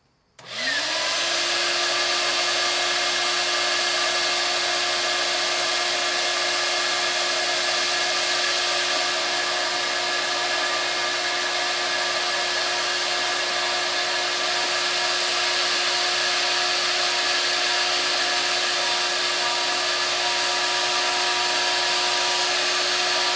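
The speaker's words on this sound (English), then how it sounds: "Let's do a vacuuming." A shop vacuum drones loud and steady after starting up, sucking up wood and delrin chips left from milling a small 4-button switcher, its motor whine unbroken throughout.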